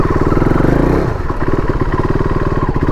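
A KTM RC 390 motorcycle rumbling loudly and close as it rides off-road through deep mud on a road under construction, its engine pulsing steadily with a dip and recovery in revs midway.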